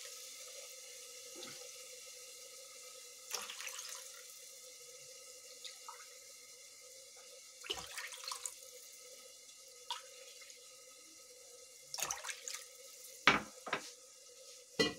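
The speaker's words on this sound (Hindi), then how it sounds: "अब मैं पानी डालूंगी" Water trickles and splashes into a pot of samak rice for khichdi, with intermittent drips and clinks, alongside a faint steady hum and light kitchen clatter.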